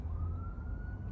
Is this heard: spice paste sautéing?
no